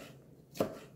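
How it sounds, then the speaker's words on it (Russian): A single close knife chop through a tomato while cutting it finely, one short crisp thud on a board in a quiet kitchen. "Также мелко нарезаю помидорчик."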